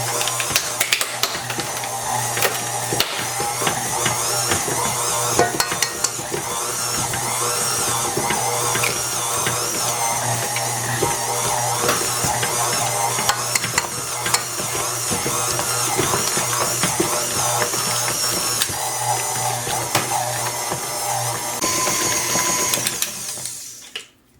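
A stand mixer fitted with a dough hook kneads a double batch of cinnamon roll dough, giving a steady, loud mechanical whir that runs almost unbroken from start to finish before cutting off abruptly.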